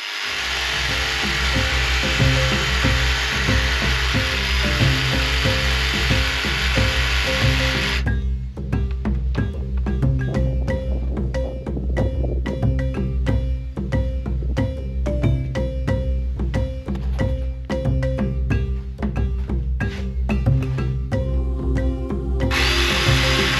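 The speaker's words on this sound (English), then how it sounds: "I'll do a little bit of touch-up work on it with the jigsaw just to get it as close as I" A jigsaw trims exterior siding around a window frame during a board-and-batten makeover, a loud continuous buzzing rasp that holds steady for most of the stretch with a brief change in tone partway through, and no voices.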